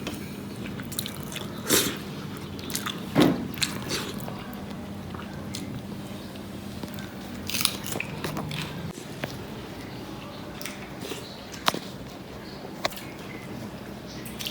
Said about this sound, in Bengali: মানে এবছরে গরমের দিনের প্রথম পান্তা খাইতেছি